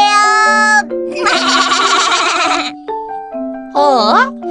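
Baby goats in a children's kindergarten TV show bleat loudly and close by in several long, wavering calls, one after another with short gaps, with no talking.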